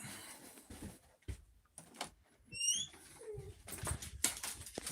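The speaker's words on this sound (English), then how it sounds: "Got the dogs going off here." Dogs indoors whimpering and yelping in short, uneven bursts with high whines and sharp yips, fairly close but not loud, mixed with a few thuds and bumps.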